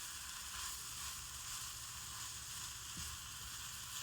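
Boiled chicken dusted with chipotle powder warms in a pan, giving off a soft, steady sizzle that holds evenly throughout, with no one speaking over it.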